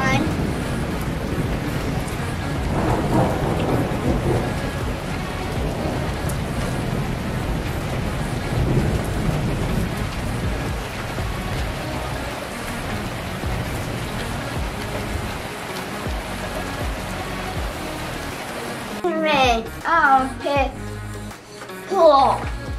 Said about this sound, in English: Okay, well, it's raining.